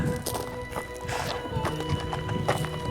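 Horses on a long Pyrenean mountain trek at the foot of the Pic du Midi walk with steady clip-clopping hooves, with a whinny rising over the busy, close-up scuffing and shuffling of the group.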